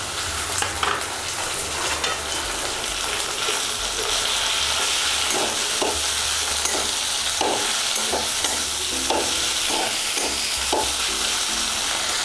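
Ginger and garlic paste frying in a pan for a Bengali mutton curry, a loud steady sizzle under a spoon scraping and stirring in a fairly regular rhythm.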